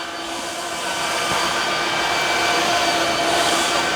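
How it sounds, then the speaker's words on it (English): A Tineco Floor One S7 cordless wet-dry vacuum running on auto mode gives a steady, close whirring motor hum that grows slightly louder after the first second and holds, with no talk over it. "I can go to auto now, where it's going to ramp the suction up and down."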